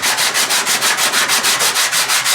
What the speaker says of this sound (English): So we're just going to use a piece of 220 grit sandpaper